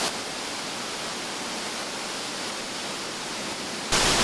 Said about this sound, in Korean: 가까워지는 폭포 소리와 함께 젖은 이끼와 푸르른 풀들이 보이기 시작합니다.